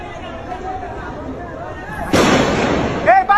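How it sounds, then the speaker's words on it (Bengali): A gunshot at night cracks out as a single sharp, loud burst that rings on for about a second, with excited voices talking before and around it. "এই যে হেনতে গুলি করতেছে"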